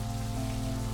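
Steady rain falls in the video game Necrobarista, a dense, even hiss of drops that holds for a moment on its own without voices.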